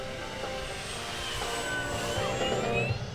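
An FMS 1700mm P-51 RC model airplane with an upgraded 360kv electric motor passes slowly with flaps down, giving a steady, moderately loud motor and propeller whine that swells slightly as it nears.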